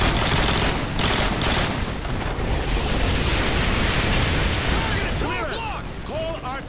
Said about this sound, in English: Mission received. Artillery inbound.